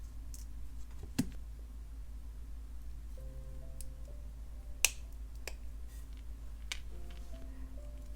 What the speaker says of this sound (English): I'm going to go ahead and snip the 5th link